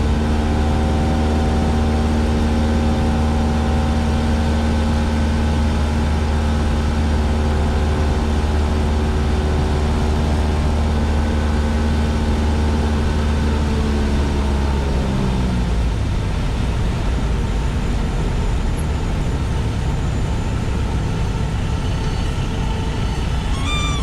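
Light aircraft piston engine during a touch-and-go landing: a loud, steady droning hum for about fifteen seconds that then shifts and drops in tone to a rougher, lower sound, with no voices.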